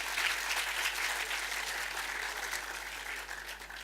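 A seated audience at a conference gathering applauding steadily, dense clapping throughout that gradually thins toward the end.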